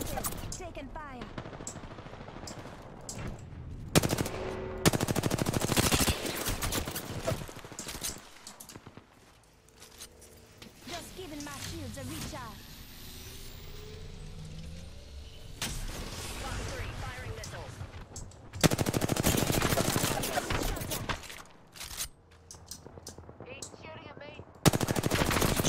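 Bursts of automatic gunfire in a ranked arena match of a shooter video game, loud rapid volleys recurring across the stretch with quieter gaps between, people talking over the shots.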